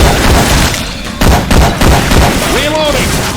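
Syphon Filter weapon fire swapped into Left 4 Dead 2, loud bursts of gunshots crackling over game noise, with a short rising tonal whine near the end.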